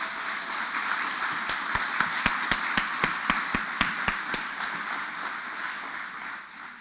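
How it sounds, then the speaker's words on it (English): Applause at a charity awards night honoring corporate sponsors: a steady crowd roar with a run of sharp, evenly spaced claps standing out in the middle, fading toward the end. "We'd like to give all of them a huge thank you and round of applause."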